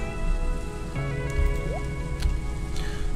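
Rain in the farming video game Stardew Valley, a steady soft patter of falling drops running throughout, with a gentle music track layered over it and a few brief game sound effects popping in.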